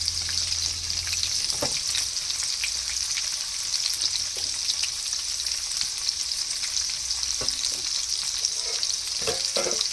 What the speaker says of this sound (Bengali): গোটা দারচিনি এলাচ এবং জিরে ফোড়ন আর একটা তেজপাতা